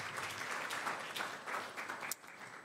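Audience applause for presenters at an agriculture and environmental science postdoctoral symposium, soft, dense clapping from a room of people, continuous and moderately distant.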